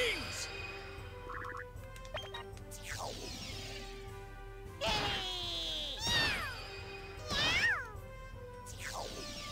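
A cat enemy in the Disgaea 4 video game meowing, several drawn-out yowling cries over quiet game music, each swelling then falling away.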